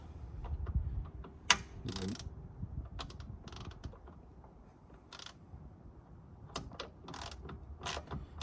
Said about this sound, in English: So all you do is